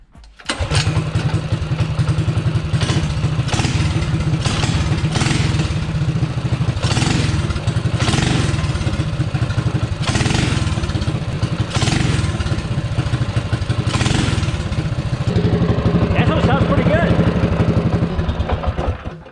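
A mini bike engine starts and runs, a loud buzzing putter that rises and falls as the throttle is blipped, close by and continuous.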